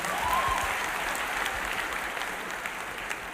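An audience in a church claps steadily and fairly near, a dense patter of applause throughout.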